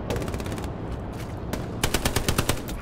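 Rapid bursts of machine gun fire in the video game Hell Let Loose crackle in quick succession, growing louder and sharper toward the end, with a steady background rumble.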